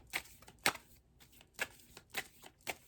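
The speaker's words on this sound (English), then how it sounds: "Shuffle these cards here." Quick bursts of cards riffling and snapping together, several short shuffles with brief pauses between them, close and fairly quiet.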